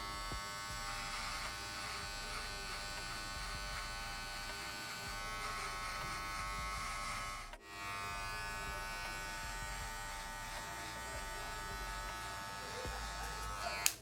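Electric hair clipper buzzing steadily while cutting a short military-style men's haircut, a close, continuous drone with a brief dip partway through; no talk over it.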